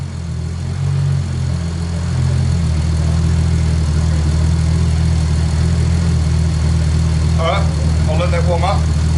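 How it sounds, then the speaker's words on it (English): A Nissan R33 GTS-T Skyline engine idles close by with a steady, low rumble throughout, and a brief voice comes in near the end. "obviously you can hear the car still running in the background."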